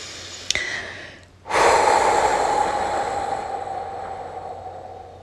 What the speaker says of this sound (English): I'm just taking a deep breath.